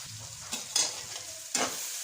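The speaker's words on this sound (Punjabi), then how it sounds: "ਹੁਣ ਆਪਾਂ 2 ਤੋਂ 3 ਮਿੰਟ ਟਮਾਟਰ ਨੂੰ ਭੁੰਜਣ ਦਵਾਂਗੇ ਚੰਗੀ ਤਰ੍ਹਾਂ" Tomatoes fry in a pan as they are stirred, giving a soft continuous sizzle broken by a few louder scraping strokes, close by, with no talking.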